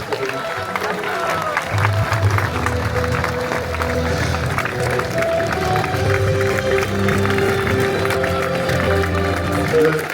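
An outdoor crowd at a village fair applauds to welcome a military parachutist, steady sustained clapping with some cheering, while a voice on a public address system talks over it.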